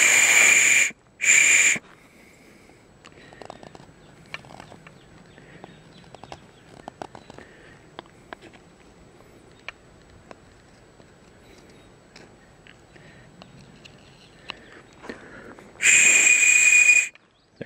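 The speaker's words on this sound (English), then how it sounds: "this whistle is not going to be as efficient as the survival whistles you get in the store" A shrill, breathy whistle made from a bush honeysuckle stem blows in short blasts at the start and end, with quiet rustling and small handling noises between.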